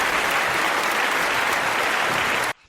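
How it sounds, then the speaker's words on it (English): A studio audience at a live show claps in a dense, loud burst of applause that continues steadily and then cuts off abruptly after two and a half seconds. "That applause is super long."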